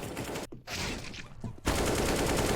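Dense bursts of rapid automatic fire from an AK rifle in a video game, loud and continuous, broken by a couple of brief pauses.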